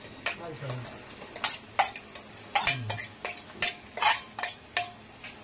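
Onion sautéing in a pan for pav bhaji, with a spatula scraping and clinking against the pan in a quick irregular rhythm over a faint sizzle, close by.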